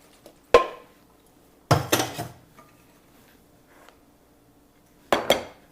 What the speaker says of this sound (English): let's put our pasta in here